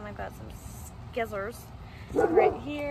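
A dog barks and yips in short bursts near a greenhouse, with a few whimpery, higher-pitched calls. Someone talks at the same time.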